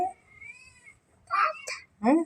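A hungry kitten meows several times up close, short and plaintive, with a brief pause between calls.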